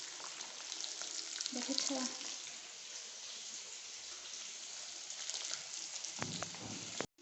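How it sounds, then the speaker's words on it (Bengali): Boiled eggs frying in hot oil in a home kitchen, a continuous close sizzling crackle throughout, with a brief spoken word near the start. "দেখো ডিমগুলো একদম লাল লাল করে ভাজছি"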